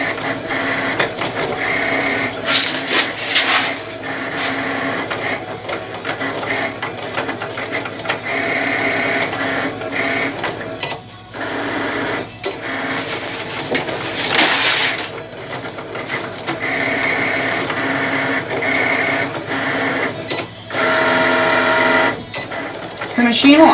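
Cutting machine slicing Siser heat transfer vinyl, a steady whirring and clicking of the carriage running continuously at moderate volume, with short louder bursts as the blade moves.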